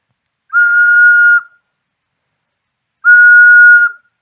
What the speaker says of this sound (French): Voici le son que notre sifflet simple va donner